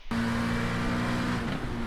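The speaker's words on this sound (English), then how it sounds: "at least you can hear what the car sounds like" Race car engine in the iRacing simulator during an IMSA series race, a sustained steady high engine drone held close and loud, dipping slightly near the end.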